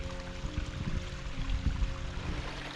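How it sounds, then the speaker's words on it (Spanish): Distant waterfall on a mountain hike, a steady broadband rush of falling water heard continuously at moderate level from afar, with no voices. "Ahí tenemos al fondo la cascada que grabé antes."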